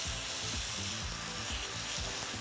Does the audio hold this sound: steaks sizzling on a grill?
yes